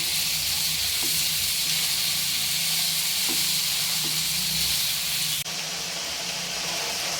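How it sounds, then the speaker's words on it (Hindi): Spring onions frying in a pan with eggs to follow, a steady loud sizzle and hiss continuing throughout with a few faint clicks and a slight drop near the end. "दो मिनट हो चुके हैं मुझे इस तरह हरे प्याज को भूनते हुए।"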